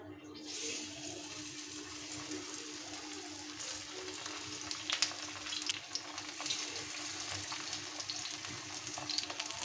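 Lotte (Bombay duck) fish pieces fry in a little oil on a tawa, producing a steady close sizzle with faint crackles and occasional light scraping.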